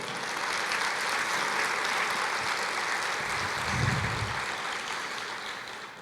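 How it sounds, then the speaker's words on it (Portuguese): Steady applause fills a church sanctuary as a Portuguese-speaking congregation claps in praise during a sermon, a dense, even roar of hands from many people, with a faint low murmur partway through and no clear speech. "aplauda o Senhor."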